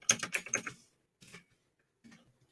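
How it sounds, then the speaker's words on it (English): Typing on a computer keyboard to enter a name into a text field in Cricut Design Space, a quick close burst of clicky keystrokes followed by two brief, softer clusters of taps separated by silence. "in the text I'm just going to write Kevin's name"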